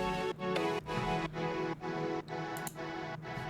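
Synth chords for a track's break, run through delay and shimmer reverb, sounding as sustained chord stabs that change every half second or so with bright airy tails, no voices.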